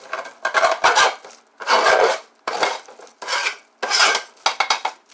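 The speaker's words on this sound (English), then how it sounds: "I'm going to put the onion right into the crock pot" Chopped onion scraped off a board into a crock pot, heard as five or six close, rough rasping and clattering bursts separated by short pauses.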